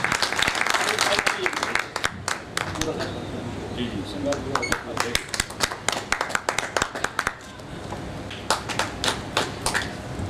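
Audience at a party founding event clapping, dense sustained applause at first that thins into scattered irregular claps, with a voice speaking over it.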